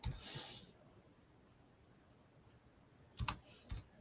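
A handful of quiet keystrokes on a computer keyboard: a faint hissy clack at the start, then a small cluster of clicks near the end over a very low background.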